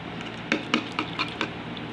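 A fork taps and scrapes against a pot while it separates fresh linguine, giving five or six light, evenly spaced metallic clinks over a soft background hiss.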